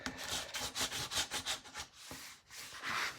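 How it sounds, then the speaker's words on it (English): Paper being burnished down on a mini album made with Stamperia Alice papers, a close run of rhythmic rubbing strokes, steady and quiet with a brief pause partway through, no talking. "Make sure it's burnished down before you do that bit."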